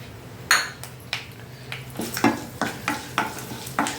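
Tempering of urad dal, mustard seeds, cumin, dried red chillies and curry leaves sizzles in hot oil in a pan, with repeated close stirring scrapes and clinks of a utensil over a steady frying hiss.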